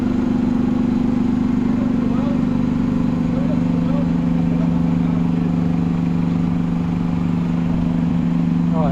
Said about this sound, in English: man on a bike's just driven past me